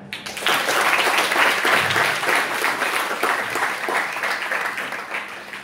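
Audience applause for the poets at a Marathi poetry evening, a sustained crowd clapping that builds, holds and slowly thins over several seconds.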